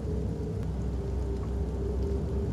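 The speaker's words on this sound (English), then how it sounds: "the rain is pouring hard outside" Heavy rain pours steadily outside in the video game Fears to Fathom, a dense, even hiss of drops with no letup across the short stretch.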